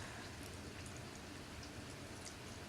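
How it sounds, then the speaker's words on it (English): Rain falls outside with a faint, steady hiss of drops that carries on unbroken through the whole stretch. No voices. "I'm sorry if you can hear the rain outside"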